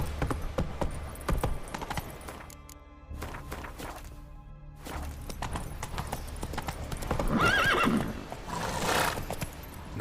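Roach the horse from The Witcher 3 pounds along in rhythmic hoofbeats, close and steady, with a whinny near the end and a game soundtrack underneath.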